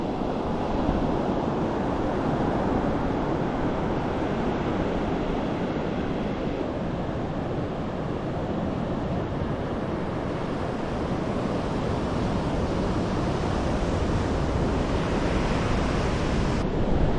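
Surf rolls onto the beach at Bacton on the Norfolk coast, a steady, loud wash of breaking waves with wind buffeting the microphone throughout, no voices present.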